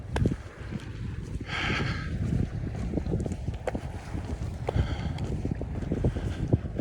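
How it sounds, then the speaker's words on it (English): Strong, cold winter wind blows steadily outdoors, buffeting the microphone with a loud continuous low rumble and gusty bursts throughout, with no talking. "I don't know if you can hear it or not, but yeah, it's quite windy."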